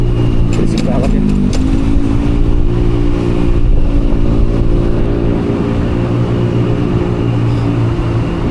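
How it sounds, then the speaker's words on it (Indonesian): A noisy vehicle exhaust in a Jakarta street, a loud close engine rumble that briefly rises in pitch, then settles into a steady droning roar with faint street noise behind it. "Suara knalpotnya"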